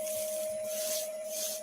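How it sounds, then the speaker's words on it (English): Hand sanding a woodturning project using a water bath, a soft steady rubbing of abrasive on wood, quiet and close, with a constant faint hum underneath. "I'll just do a little bit of hand sanding with the water bath"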